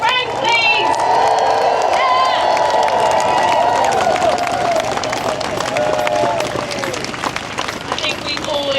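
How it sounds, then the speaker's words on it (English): A large crowd at a clean-water protest march in London cheers and applauds loudly and steadily, with whoops and a dense wash of clapping and crowd babble. "applause for Frank, please"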